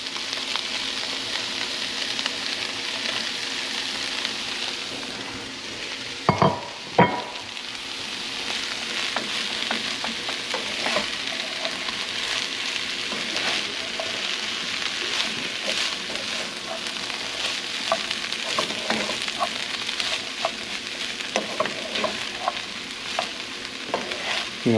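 Rice frying in a hot pan and stirred steadily, a continuous close sizzle with scraping and tapping of a utensil throughout, a couple of sharper knocks early on, and no talk.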